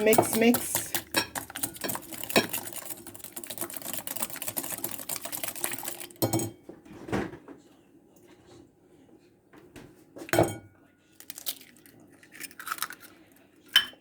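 Carrot cake batter being mixed by hand in a bowl, sugar and eggs stirred together, giving a busy run of scraping and clinking utensil-on-bowl sounds for about six seconds, then sparser isolated knocks and scrapes.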